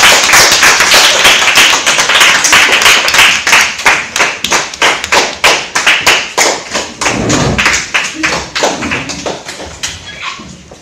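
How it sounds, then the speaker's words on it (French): A crowd applauds with steady, dense clapping that gradually thins into scattered claps toward the end. "On peut les applaudir."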